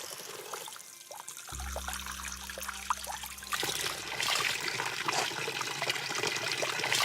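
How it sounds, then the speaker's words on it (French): Carbonated spring water at the Orezza spring in Haute-Corse bubbles and gurgles up from the ground, a close, continuous trickling wash joined midway by a low steady hum, then growing busier and louder. "dont les bulles jaillissent du fond de la terre"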